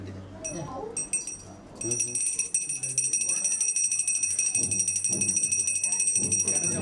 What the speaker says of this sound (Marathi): घंटी दे